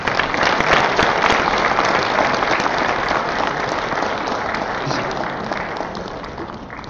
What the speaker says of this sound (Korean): 원광연 이사장님을 큰 박수로 맞이해 주시기 바랍니다